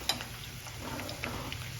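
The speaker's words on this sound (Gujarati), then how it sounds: "થોડીક વાર આપણે તળાવવા દઈશું" Yam chevdo fries gently in hot oil over a low gas flame, giving a steady, soft sizzle with faint crackles and a light tap of a utensil at the start.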